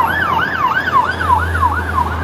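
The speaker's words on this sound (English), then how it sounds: "Got another fire engine." A fire engine siren passing outdoors on a hilltop walk, a loud wailing tone rising and falling in a regular rapid cycle over faint road traffic rumble.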